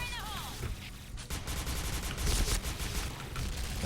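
Rapid bursts of gunfire from the SC2010 XMAS gun in a video game, firing in dense repeated volleys at close range, with a brief sweeping effect at the start and other game sounds mixed in.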